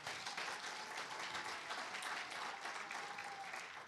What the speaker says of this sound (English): give the last performer a big round of applause